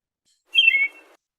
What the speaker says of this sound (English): I'm just going to isolate one tiny chirp that this robin does here